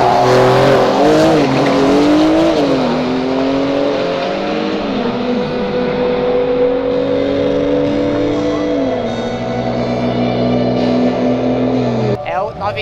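A Porsche racing on a track revs hard and shifts through the gears, with a loud engine note near the microphone and tyre squeal rising under it.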